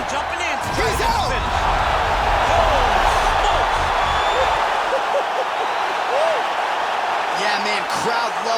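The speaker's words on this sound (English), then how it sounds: "crowd loving it" A crowd roars in EA Sports UFC 4 after a fight-ending knockout, a dense sustained cheer filling the whole stretch while a commentator talks over it.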